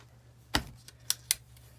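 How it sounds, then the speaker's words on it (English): Short, sharp snaps of a small piece of tape being torn and pressed onto a folded bag, three or four quick clicks spread across a quiet indoor background with a low steady hum. "I'm going to take a little piece of tape"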